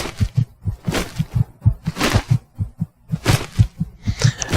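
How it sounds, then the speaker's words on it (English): Low-health heartbeat warning in Skyrim, a steady rhythmic double thump pulsing about twice per second, loud and continuous, with in-game noises and breathy effects layered above. "I'm so low on health. That is so funny. I got the heartbeat going."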